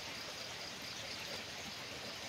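Continuous rain falls in flood-prone Agusan del Sur, an unbroken soft wash of noise holding a constant level, with no one speaking.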